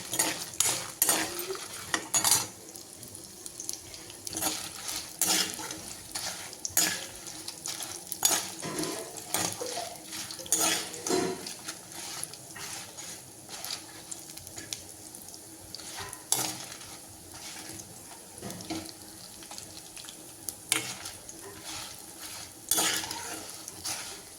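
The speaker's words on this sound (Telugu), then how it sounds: "ఎండుమిరపకాయలు కూడా ఒక పది వేసుకోవాలి ఇవన్నీ దూరగా వేయించుకోవాలి" Dry red chillies and other ingredients dry-roasting in a pan, a soft crackling sizzle broken by frequent clinks and scrapes of a spoon stirring against the metal, close and quiet with no talking.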